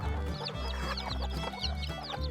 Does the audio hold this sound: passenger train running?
no